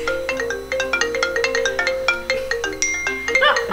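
A mobile phone rings with two incoming calls at once, overlapping melodic tones chiming in a fast repeating pattern, loud and close, with a brief rustle at the end.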